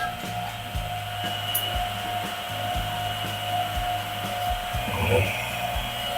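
Vacuum pump evacuating the sealed R600a refrigerant system of a Samsung inverter refrigerator during repair, a steady mechanical drone with a faint rattle running throughout at close range.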